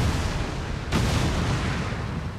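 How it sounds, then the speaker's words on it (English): Planted charges detonate in XCOM 2, a sustained dense roar of rumbling blast noise with a sharper burst swelling about a second in, loud and without voices. "Detonating charges."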